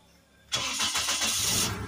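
A 2009 Toyota Hiace van's engine starts up abruptly after a quiet moment, catching quickly with a loud crank that settles into a steady, close rumbling idle.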